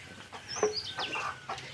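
Chickens cluck and chirp faintly in a village yard among tribal homes where buffaloes are also kept, with a few short calls scattered over a quiet background.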